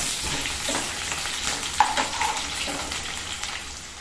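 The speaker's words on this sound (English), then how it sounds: "I am adding 1 potato also. It will get roasted along with the onions." Potato roasting with onions in a pan, frying and sizzling steadily while being stirred, with scraping knocks from the stirring and no voices.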